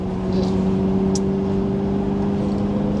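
A Ferrari 355 GTS engine running at low revs, a steady close drone with a faint hiss and one brief high squeak, with no voices over it.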